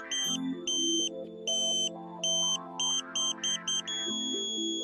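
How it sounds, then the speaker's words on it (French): A satellite internet dish pointing meter gives beeping tones that change in pitch and rhythm as the antenna is pushed and pulled, pulsing at first, then settling into a steady continuous tone. "La tonalité doit changer et retourner sur la tonalité continue quand on lâche l'antenne"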